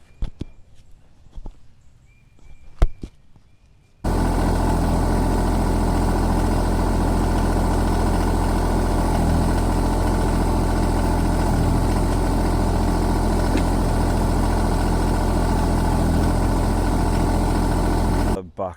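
A Kioti RK24 compact tractor's diesel engine runs loud and steady, close by, as the tractor backs onto a box blade. Footsteps and light handling noises come first, then the engine starts and holds a constant drone until it cuts off at the end.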